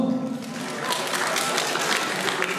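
Wedding guests applaud the best man at a celebration, a steady wash of clapping from a crowd in a hall, even and sustained throughout.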